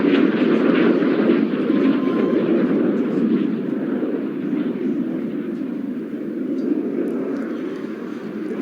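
RAF Red Arrows display jets at the RAF Cosford Airshow 2018 roar past during a nose-to-nose pass, a loud, steady engine rumble that swells and holds without breaks.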